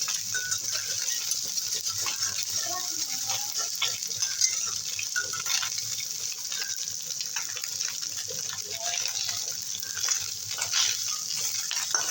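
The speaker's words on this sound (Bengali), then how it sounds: "ভাজা হয়ে গেছে তুলে নেব" Small chela fish fry in hot oil in a pan, giving a steady, close crackling sizzle that runs unbroken throughout with no voices.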